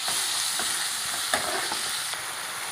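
Tomatoes frying in oil with curry leaves in a pan for thoor dal curry, an even close crackling sizzle with a few faint stirring knocks, no voices.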